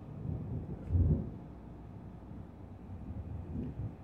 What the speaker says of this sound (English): if you guys can hear that, that's thunder.